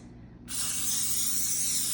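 A steady, bright hiss of an aerosol butter cooking spray onto a baking dish starts suddenly and continues evenly, close by.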